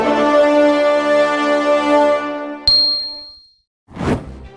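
Notification bell ding sound effect: a loud sustained bell tone that rings and decays, cut by a sharp bright metallic ding, then a short noisy swish after a brief silence.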